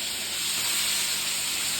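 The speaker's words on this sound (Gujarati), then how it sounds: "તેલ મૂક્યું હવે વઘાર કરીશ રાઈ" Mustard seeds hit hot oil for tempering vegetables in a home kitchen, giving a brief, steady, close hiss of sizzling with no talking.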